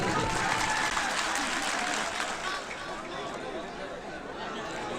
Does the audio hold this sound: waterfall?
no